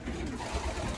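Racing pigeons cooing inside a loft, low throaty coos close by in a short, continuous murmur.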